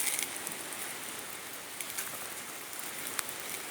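Rain falls steadily, a soft even hiss of drops on surfaces with occasional louder nearby splats, fairly quiet and constant.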